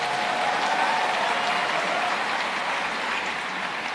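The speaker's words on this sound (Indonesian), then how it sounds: "Tepuk tangan untuk mereka." Steady, dense applause from a congregation at a Catholic archdiocese anniversary Mass, a sustained even roar of many hands clapping in a large space, with no speech over it.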